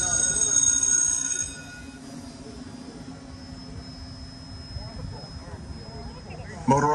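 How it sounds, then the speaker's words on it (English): An electric motor on an RC glider whines at a high pitch for a couple of seconds, then cuts out and leaves open outdoor air noise, with a voice speaking nearby. "Motor off in five"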